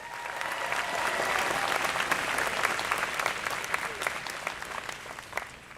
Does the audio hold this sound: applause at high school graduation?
yes